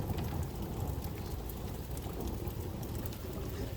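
Steady rain pouring during a thunderstorm in Stocksbridge, UK, a continuous dense hiss and patter with a low rumbling undertone throughout, no voices.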